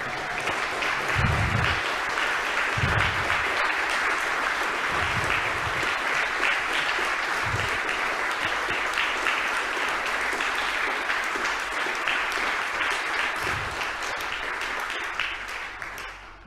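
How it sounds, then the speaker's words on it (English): Sustained audience applause for award nominees at the 2022 ACT Australian of the Year Awards, an even, full round of clapping that fades at the very end. "please give them a round of applause"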